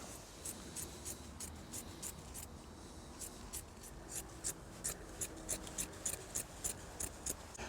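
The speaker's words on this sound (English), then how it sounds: "you can simply put the carpet over the top of it with the overhang, like so. And then just cut round." Four-way stretch carpet being trimmed around the edge of a camper van panel with scissors, a quiet close series of regular crisp snips, steady and alone.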